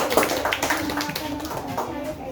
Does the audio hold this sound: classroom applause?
yes